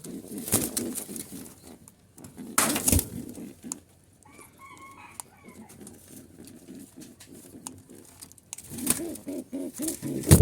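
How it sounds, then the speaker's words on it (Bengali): Jalali pigeons in a loft with eggs and chicks give soft, low cooing that rises briefly in the middle, set between several louder clattering knocks and flutters. "এটা একটা নর কবুতর ডিম আছে এইখানেও"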